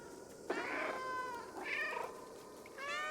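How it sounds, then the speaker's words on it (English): A cat in the video game Stray meows and growls, three drawn-out wavering meows with rough growling undertones, close and clear with no talking. "A little bit of growling along with the meowing."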